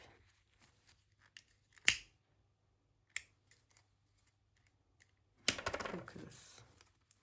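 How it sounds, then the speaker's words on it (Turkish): Scissors cut crochet yarn up close: a crisp single snip, a fainter click a moment later, then a longer rustling burst of cutting and handling in an otherwise quiet room. "Bunu da böyle kesip"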